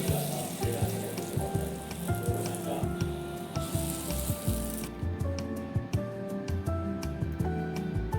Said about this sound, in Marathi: गॅसवर मी अप्पे पात्र ठेवलं आहे त्यामध्ये थोडं थोडं तेल घालून घेऊ आणि थोडं थोडं मिश्रण घालून घेऊ